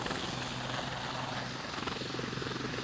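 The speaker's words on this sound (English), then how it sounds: "coming in on a perfect three-point landing, if indeed helicopters make three-point landings" Loud, continuous helicopter rotor and engine roar close by as it lands, a dense rushing drone with steady thumping and strong downwash, filling the whole clip with no talk.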